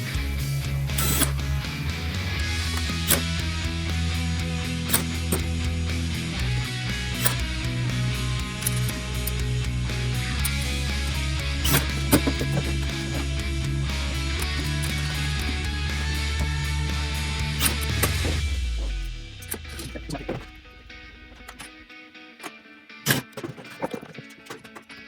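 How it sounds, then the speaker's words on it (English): A power driver drives screws into the side piece of a miter saw fence, a steady whirring drone with ratcheting clicks for nearly twenty seconds. It then stops, leaving a few sharp knocks and taps close by. "start screwing in the side for the fence"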